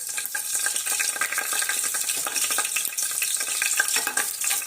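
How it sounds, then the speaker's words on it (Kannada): Chopped green chillies fry in hot oil in a pan, a dense crackling sizzle with bursts of spattering throughout, close and continuous with no talking. "ನಾನು ಕಟ್ ಮಾಡಿ ಇಟ್ಕೊಂಡಂತ ಮೆಣಸಿನ್ಕಾಯಿ ಹಾಕಾಕತ್ತ ನೋಡ್ರಿ"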